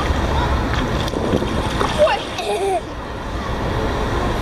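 Water splashes from a person swimming and paddling with arms and legs in a pool, a steady broadband wash of churning water with people talking over it.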